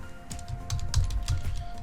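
A computer keyboard is typed in a short, close burst of a handful of quick key taps in an uneven rhythm, heard over a faint steady hum.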